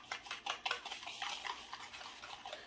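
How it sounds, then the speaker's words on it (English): A whisk beats brown sugar and cinnamon together in a bowl, giving soft, quick scraping and clinking strokes in an irregular rhythm, fairly faint and close. "I'm gonna mix my brown sugar cinnamon together here."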